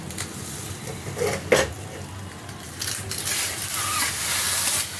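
A cooked leaf dish being tipped and scraped out of a metal pan, with clattering and scraping of the utensil against the pan over a light background hiss and a brief louder knock near the start.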